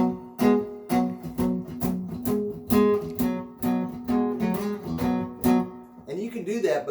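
A guitar strums a repeating rhythmic chord part up the neck with a barre chord, in crisp regular strokes heard close and alone, then trailing into a short softer passage at the end.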